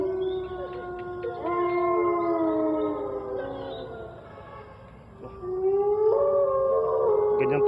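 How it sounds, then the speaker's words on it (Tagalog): Dog in a forest howling in two long wavering bouts, the second rising after a brief dip, loud and close, with no one speaking. "ang aso talaga, parang sumusunod."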